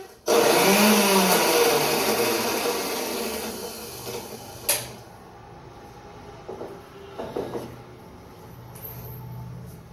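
A kitchen mixer grinder whirs loudly while blending Schezwan chutney made from red chillies, running steadily for about four seconds before stopping, followed by quieter kitchen clatter and a few brief knocks.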